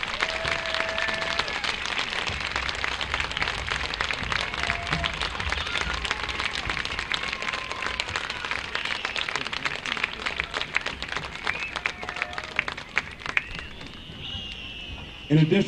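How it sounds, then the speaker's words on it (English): A stadium crowd applauds cheerleaders at a football field dedication celebration, a dense, sustained wash of clapping from many hands that thins out near the end, with voices mixed in. "Fans in the stands, please give a big round of applause to those that led us to victory"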